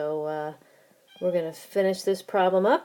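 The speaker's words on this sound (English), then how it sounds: "That is my cat in the background. She wants to go for a walk." A pet cat meows in the background at the start, a short harmonic cry, then a person talks over it at close range.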